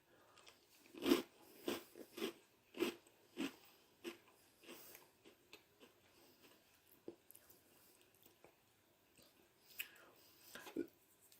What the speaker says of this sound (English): let me try a couple dry and see what they're like